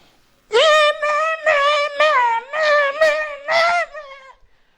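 A goat bleats loudly and close by in a string of about six wavering, nasal cries, each roughly half a second long with brief gaps between them, and no other sound around them.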